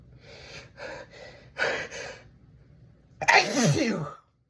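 Four short sharp breathy gasps, then a loud, close sneeze burst with a voiced cry trailing off.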